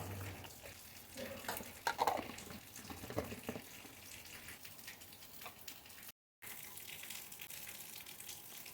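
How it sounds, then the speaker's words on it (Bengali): A small splash of water poured into a hot pan of jackfruit kofta gives a short gushing burst and sizzle, then settles into a low steady simmering hiss, close by. "দেবো এখানে সামান্য জল।"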